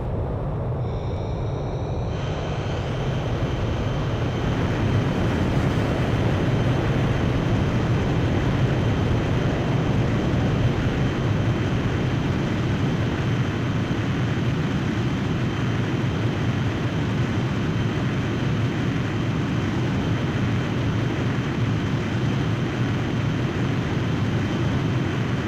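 A fighter jet launches by catapult from an aircraft carrier in the Ace Combat 5 flight game, a loud sustained engine roar that builds after a short spool-up and holds steady as it powers away.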